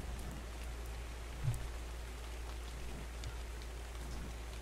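Rain in Ark: Valhalla falls as a steady, soft hiss of drops over a low ambient rumble, with a faint thump partway through and no voices.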